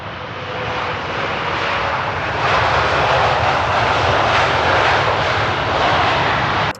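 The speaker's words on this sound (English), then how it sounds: "Well, we have a plane coming in." A British Airways Boeing 787-800 Dreamliner airliner flying in overhead produces a loud, broad engine roar that builds and holds steady throughout, with no talk.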